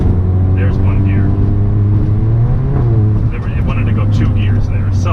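A car with a tuned DSG gearbox kicks down two gears under light throttle: a steady engine drone climbs in pitch twice as the revs rise, with road rumble and a voice talking over it.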